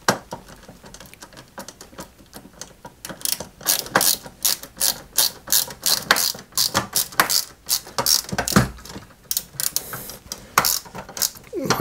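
Small screws are driven into the front of a 1/8 scale Citroen 2CV AZLP model kit, holding the fenders in place. The screwdriver gives off dense, rapid ratcheting clicks close by, growing louder and busier through the second half, with no talking.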